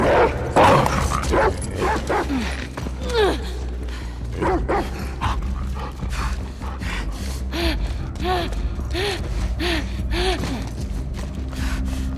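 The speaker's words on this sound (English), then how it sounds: "Damn, bear. There was no person doing that. That was all the dog." Bear, a dog in the video game The Last of Us Part II, barks in a series of sharp repeated yips and woofs. Heavy gasping breaths and mechanical game sounds run beneath.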